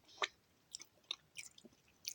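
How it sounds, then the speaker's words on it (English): Someone chews a sticky dried date close to the microphone, producing soft, irregular wet clicks and smacks that come in small bursts, quiet and without speech. "So I just ate another date, and that's what I'm chewing on."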